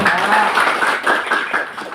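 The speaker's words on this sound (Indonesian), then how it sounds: "Tepuk tangan boleh?" Clapping from a gathered crowd at a public meeting, a steady dense patter of many hands throughout with some voices mixed in.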